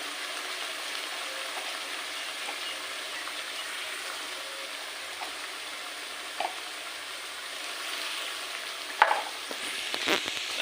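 Fish curry with turmeric cooking in a pan gives off a steady, even sizzle from start to finish, with a few sharper clinks and scrapes near the end.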